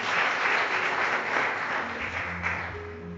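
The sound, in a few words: audience applause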